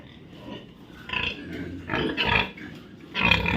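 Sows and other pigs in a farm pigpen, several low grunts and snorts in uneven bursts, moderately close with faint background farm noise.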